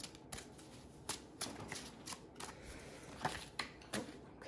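Tarot cards are shuffled by hand in a quiet room, giving a string of soft, crisp riffling clicks and flutters at an uneven rhythm, close up and fairly faint.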